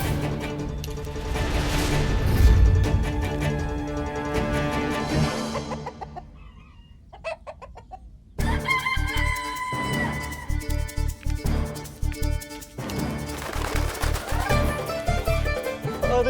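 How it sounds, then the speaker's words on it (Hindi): A chicken clucks and a rooster crows amid a comedic royal-court chase, over loud music and other sound that drops away briefly midway before resuming. "मुर्गी, मुर्गी, मुर्गी।"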